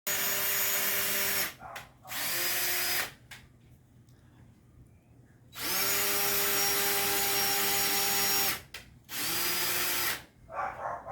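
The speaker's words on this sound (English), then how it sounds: "So Mike's going ahead and getting the little holes pre-drilled here" Power drill pre-drilling small holes in cabinets, whirring in several loud bursts of one to three seconds, separated by short pauses and quieter gaps.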